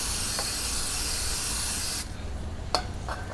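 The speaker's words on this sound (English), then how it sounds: "let me just spray one more time on the other side of the scotch bite" Aerosol brake cleaner sprayed onto a Scotch-Brite pad while cleaning the brake rotors of a Honda H'ness CB350: a steady, loud, close hiss for two seconds, then a quieter tail with one short spurt.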